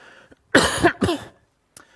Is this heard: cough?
yes